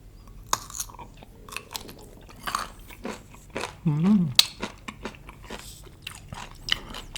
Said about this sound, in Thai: เดี๋ยวเรามาลองกินแบบดองเกลือโบราณกันครับ